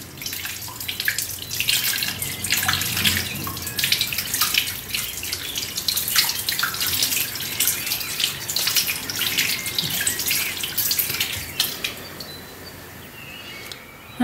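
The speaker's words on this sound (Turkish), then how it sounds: "Şöyle güzelce yıkamam gerekiyor." Tap water runs steadily while quinces are washed under it, a close hissing splash with irregular spatters and drips, fading softer near the end, no voices.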